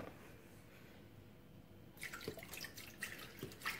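Milk is poured into bread dough ingredients for homemade multigrain sandwich bread, starting with a faint hiss and then a soft, uneven splashing trickle with small drips, quiet and close with no voices.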